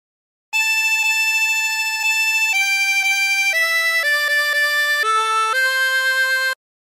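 A 24-hole tremolo harmonica plays the melody of House of the Rising Sun as a steady, clear sequence of sustained wavering notes, solo and close, with no talking.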